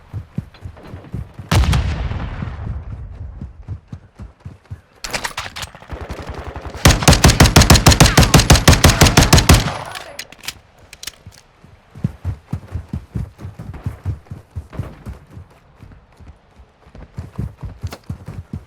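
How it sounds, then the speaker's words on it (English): Gunfire in Call of Duty: Modern Warfare 2 multiplayer: loud bursts of automatic fire, with one sustained rapid volley in the middle, among scattered single shots and clattering footsteps. "Taking effective fire."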